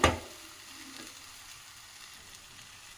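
Okra (bhindi) fries in a pan, opening with a brief loud burst of sizzle that settles into a soft, even hiss for a few seconds, with no talking.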